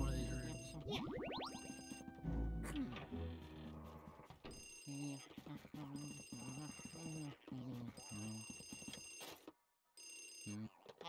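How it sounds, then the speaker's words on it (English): A telephone rings with bright repeated electronic trills in the GameCube game Luigi's Mansion, bursts recurring across several seconds and layered among game music and effects. "there's a phone ringing in one of these rooms."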